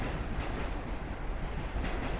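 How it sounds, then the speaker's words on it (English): A train rumbles past on elevated tracks over 9th Avenue in Sunset Park, Brooklyn, a steady loud roar with faint rail clatter filling the whole stretch, no voices. "Sounds like a train going towards Manhattan now."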